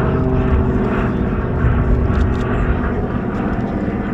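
A C-47A propeller transport plane flies over an air show with parachutists, its piston engines giving a loud, steady droning roar that holds throughout.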